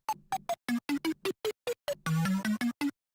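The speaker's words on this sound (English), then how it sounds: "Really kind of dirty, one-shot, kind of plucky sound" Short, gritty synth plucks play a quick bouncy melody, each note cut off sharply, with a brief denser burst near the end; no voices.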